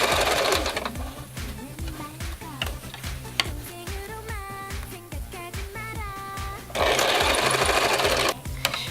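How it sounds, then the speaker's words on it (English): A sewing machine runs in close, loud bursts as it stitches the two ends of a floral fabric infinity scarf together, with a fast rhythmic whir and brief pauses between the runs. "keep matching up the two ends of the fabric and then sewing it together"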